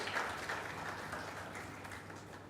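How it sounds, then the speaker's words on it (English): An audience at a computational linguistics summer school gives a round of applause, a soft, distant wash of clapping that slowly fades. "we really need to have a big round of applause"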